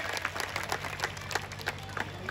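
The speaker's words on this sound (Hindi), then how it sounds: "जोरदार तालियां बजाइए" A crowd at a Hindi comedy poetry gathering in Bihar claps together in a steady, moderately loud round of applause, with individual claps scattered through the sound.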